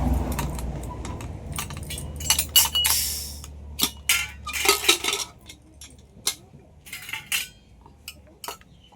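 Metal pressure cooker lid unlatched and lifted after two whistles, a run of close metallic clanks, jingles and scrapes in uneven bursts over a low background hum.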